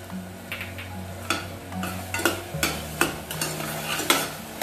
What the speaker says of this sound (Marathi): मिल्क पावडर ऍड करून याला असं परतून घेते.